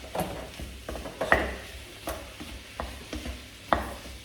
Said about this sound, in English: So literally, I'm breaking up the mince.